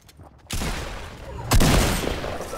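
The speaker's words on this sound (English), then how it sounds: "We're getting shot at." Loud video game gunfire erupts in two dense bursts, the first sustained rattle starting early and a heavier, booming volley joining midway, close and dominating with little talk.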